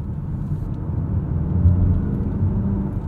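A 2023 Mazda CX-50 2.5 Turbo in sport mode, heard from inside on a California road as it takes a corner, gives off a steady low engine drone and road rumble.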